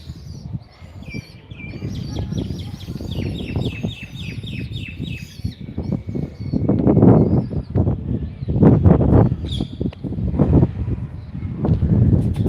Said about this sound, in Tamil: இங்கே புறாலாம் நிறையா கத்திக்கிட்டே இருக்கும் வந்து சவுண்டு கேட்டுக்கிட்டே இருக்குது